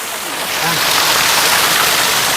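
A waterfall of clear water at Tanguar Haor roars close by as a steady, loud, broadband rush of falling water, with no voices.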